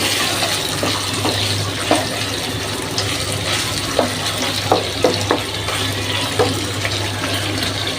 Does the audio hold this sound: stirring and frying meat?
yes